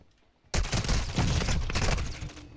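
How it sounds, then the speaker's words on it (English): Gunfire from Call of Duty Warzone 2 breaks out suddenly after a quiet moment, a loud, dense burst of rapid shots and booming reports that tapers slightly toward the end. "Taking effective fire."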